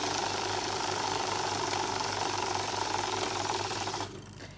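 A money counting machine runs after its start button is pressed, giving a steady, close mechanical whir with a fast rhythmic clatter that stops abruptly near the end.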